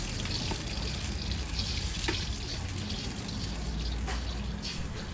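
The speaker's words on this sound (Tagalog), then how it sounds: "Maglagay ng 1 litro ng tubig." Steady rushing pour of about one litre of water running continuously into a cooking pot for lomi, with a few faint clinks underneath.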